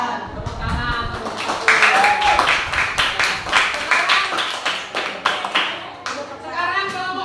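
Classroom audience clapping for a presenting group during a teacher-training session, a sustained round of close, rhythmic hand claps, with speech mixed in.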